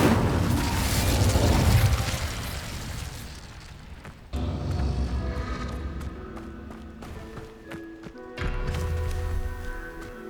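Incendio fire spell cast in Hogwarts Legacy, with booming bursts of flame and rumbling blasts: one big eruption early, then further loud whooshing impacts amid layered game sound effects and music.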